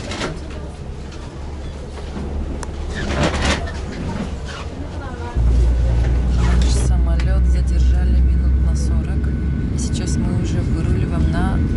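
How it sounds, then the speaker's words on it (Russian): A passenger airliner taxis out toward the runway in Istanbul, its engines humming and whining steadily from inside the cabin, the rumble swelling louder partway through, with people talking over it. "Выруливаем на взлетную полосу."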